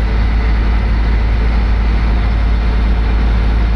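A loud, steady diesel engine of a 50,000-pound excavator drones close by in the cab, a constant low rumble with no breaks and no voices.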